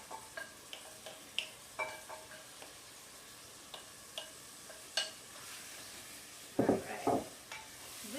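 Marinated chicken korma mixture frying over high heat in a pan, with steady faint sizzling broken by scattered clicks and stirring taps and a louder burst of scraping near the end.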